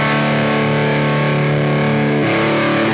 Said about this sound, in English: If I'm plucking, I pluck the root note on the bottom, and then I pluck with my fingers on the highest 2 string.